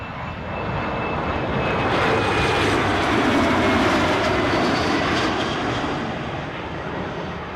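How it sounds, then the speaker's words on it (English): Aircraft on the Exeter flight landing at Newcastle airport, a loud engine roar that swells and passes close by over several seconds, then fades slightly, with no talk. "Incoming Exeter flight"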